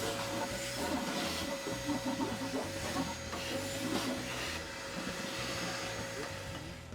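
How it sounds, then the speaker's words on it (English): A vacuum cleaner sucks ash and dust out of a pellet grill, a steady, close, broadband roar with a constant whine and faint rattling debris, running the whole time without talk. "And Malcolm, it's time to get the vacuum out."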